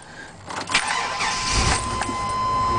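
A 2002 Chevy 3500 utility-body work truck with a misfiring motor cranks and fires up quickly, then settles into a loud, close, steady idle.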